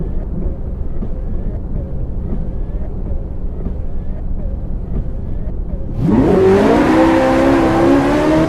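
A car engine in the racing game DriveClub, driving in rain: a low steady rumble gives way to a loud, rising roar as the engine revs hard and climbs through the gears.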